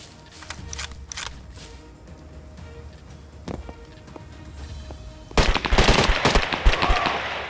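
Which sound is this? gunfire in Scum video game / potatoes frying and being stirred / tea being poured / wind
gunfire in Scum video game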